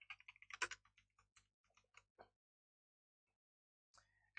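Quiet clicking keystrokes on a computer keyboard come in a quick irregular run, pause, then a few more taps, close and faint in an otherwise silent room.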